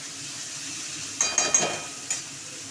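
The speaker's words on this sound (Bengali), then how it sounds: "বেগুনটা একটু ভাজা ভাজা হলে মাছের তেলটাও দিয়ে দেবো।" Eggplant with onion frying in a pan, a soft steady sizzle punctuated by a few sharp utensil clinks and scrapes against the pan near the middle, close and without talking.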